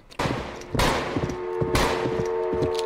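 Gunfire rings out in the Roblox western game Westbound: three loud, sharp shots spaced about a second apart, each with a ringing tail over faint game ambience.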